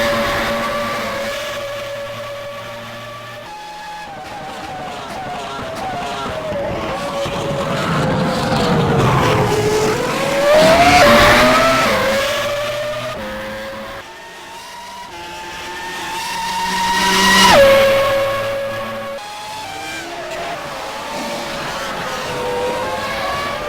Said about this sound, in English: The sounds in it are fantastic, and I don't think there's an F1 mod out there with better sounds, especially in the Ferrari engine cars